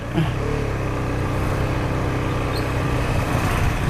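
A Husqvarna 250cc motorcycle engine running with a steady mid-pitched drone and slight rise in revs, loud and continuous throughout.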